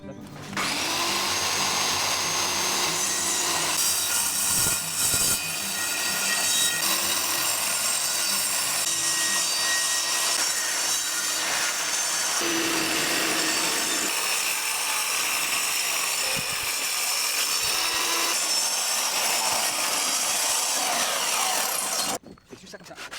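A power saw blade cuts through a slab, with a continuous loud whine and grinding that holds steady for about twenty seconds before cutting off abruptly at the end.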